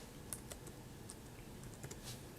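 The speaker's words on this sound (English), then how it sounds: "So let's just type that in there," Quiet, rapid keystrokes on a computer keyboard as an Excel formula is entered, a soft irregular run of clicks with no talking.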